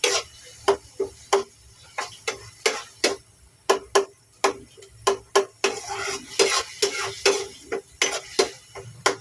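Sautéing in a pan before spaghetti sauce goes in, heard as a steady series of sharp metal utensil scrapes and clinks against the pan over a faint low sizzle, fairly close and without talk.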